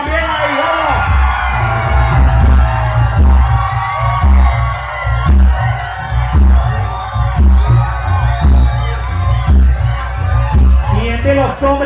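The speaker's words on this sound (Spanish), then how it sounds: "Fuerte los aplausos para Catrina Diabólica." Applause and cheering from a crowd at a costume contest in Masaya, Nicaragua, with whoops and yells that hold steady and loud throughout, mixed with a busy, echoing background of voices and music.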